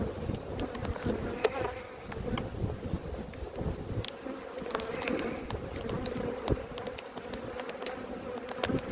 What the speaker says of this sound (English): That's sort of an angsty swarmy noise because they're not happy.